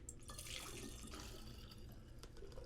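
Whiskey poured into a measuring beaker, a steady continuous liquid pour with a splashing, trickling quality, close and unbroken, no talk.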